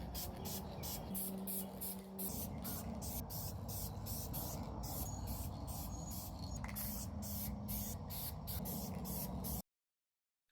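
Red spray paint hisses onto a Daredevil cowl in quick repeated bursts, a close, steady rhythm of short sprays running for several seconds before cutting to silence.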